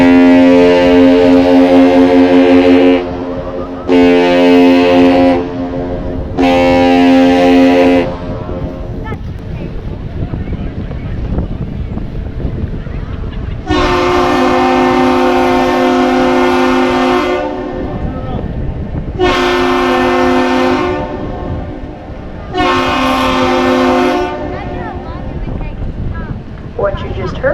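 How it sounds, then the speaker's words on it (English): The Great Lakes freighter Paul R. Tregurtha sounds its deep, harmonically rich horn: a long blast and two shorter ones, then a long answering blast and two shorts, loud and distant over wind and rain noise. "It's a long whistle followed by 2 shorts."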